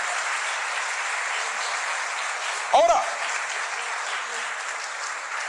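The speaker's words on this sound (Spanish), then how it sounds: "Si vas a aplaudir a Cristo, hazlo con toda tu fuerza" Congregation applauding during a Spanish-language church sermon, a steady broadband wash of clapping throughout with a brief voice cutting in near the middle.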